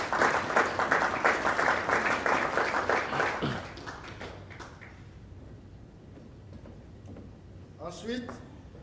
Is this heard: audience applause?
yes